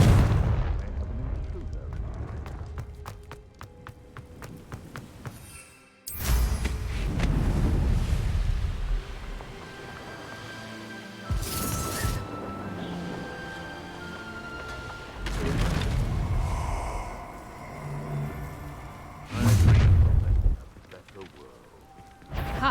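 Fiery blasting-spell explosions in the Hogwarts Legacy video game, a few loud booming bursts with rumbling low-end decay, spaced across the scene amid game effects and a character's voice.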